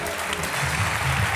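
Dense audience applause greets French comedian Smaïn as he walks on stage at a live show, a loud, steady roar of clapping throughout with no voices on top.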